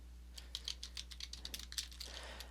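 Rapid keystrokes on a computer keyboard as search terms are entered, a quick, uneven run of light clicks against a low steady hum, with no voices.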